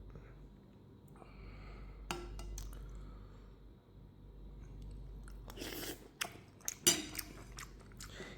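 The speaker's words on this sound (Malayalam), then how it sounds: "ഇനി ഉണക്കമീനിൽ നിന്നൊരു പീസ് എടുത്തിട്ട് ആ കഞ്ഞിയിൽ വെച്ചിട്ട് ആ ചെറുപയറിൻ്റെയും ചമ്മന്തിയുടെയും കൂടെ വെച്ചിട്ട് കഴിച്ചു നോക്കാം." Close-up chewing of rice gruel eaten with a piece of dried fish and green gram, soft wet mouth sounds with a few louder crunchy bites toward the end, over faint low background hum.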